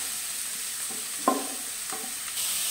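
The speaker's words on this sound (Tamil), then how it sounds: "வெங்காயம் வதங்கிட்டு இருக்கட்டும், நம்ம வந்து இப்போ பீட்ரூட்டை போட்டுறோம்." Grated beetroot and onions sauté in a pan for beetroot chutney, with a soft continuous sizzle broken by a few brief scraping stirs.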